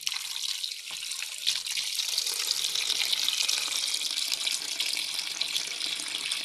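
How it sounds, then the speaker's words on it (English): Water runs steadily into a bowl of grapes being washed, a continuous hissing splash with a few small drips and gurgles, close and moderately loud throughout, with no talking. "Then put in some more water."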